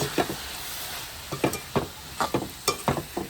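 Jaffna-style pineapple chutney stirred with ginger and garlic in a pan: repeated scraping spoon strokes at an irregular pace over a light sizzle, close up and without any voices.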